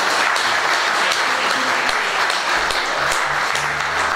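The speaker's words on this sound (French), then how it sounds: "je vous demande de lui donner un très grand applaudissement, un très très grand applaudissement." Dense audience applause at a live show featuring Ibo Simon, a steady wash of many hands clapping throughout, loud and close with no talk over it.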